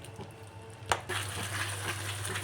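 Milk rava kesari being stirred in a pan, a soft, steady bubbling sizzle with a single sharp clink of the spoon against the pan partway through.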